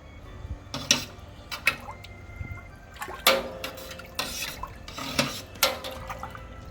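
Brewing salts stirred into several gallons of water in a homebrew mash tun: irregular splashing and sloshing bursts, a few sharp liquid splats spaced through the stretch, near and moderately loud with no talk.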